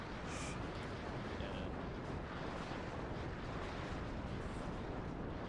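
Artillery fire in the Warno strategy video game, a dense, continuous low rumble of distant barrages with no clear individual shots, steady throughout.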